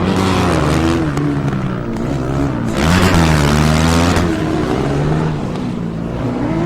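A Formula Student race car roars past on its last lap of an endurance final, its engine loud and close with a rising then falling pitch as it sweeps by.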